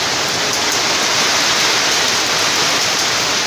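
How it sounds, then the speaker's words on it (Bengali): A dense, loud, unbroken roar of hailstones and rain pelting down during a sudden Kalbaishakhi storm, steady and close throughout with no pauses. "এই দেখুন কত বড় বড় শিল পড়ছে"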